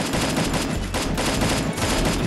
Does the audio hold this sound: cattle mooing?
no